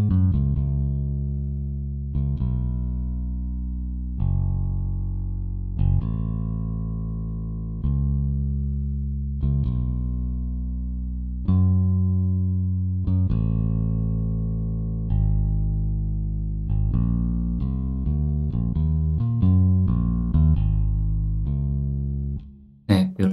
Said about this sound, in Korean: 이런 식으로 이제 전형적인 이제 세션 베이스 느낌인 걸알 수가 있죠